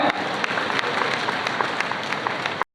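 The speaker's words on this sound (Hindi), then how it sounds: "ये पुस्तिका का विमोचन एक बार पुनः जोरदार तालियां" Loud, dense applause from a large crowd at a government booklet launch, steady throughout, cutting off abruptly near the end.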